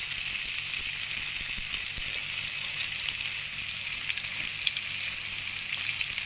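Chopped onions and green chillies frying in a pan for chamadumpa pulusu, a steady even sizzle with crackling hiss, close and constant, no talking.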